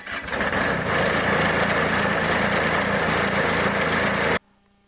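A tractor engine cranks and catches, then runs loud and steady close by with a continuous rumbling drone for about four seconds before cutting off abruptly to near silence.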